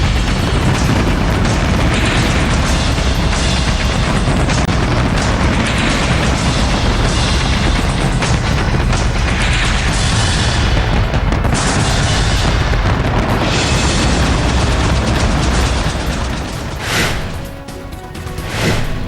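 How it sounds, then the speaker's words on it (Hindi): Massive New Year fireworks display over Dubai, with dense, continuous booming bursts and crackling explosions layered into a loud, sustained roar that barely lets up throughout. "नए साल के स्वागत में 6 मिनट में 4 लाख से ज्यादा आतिशबाजी हुई।"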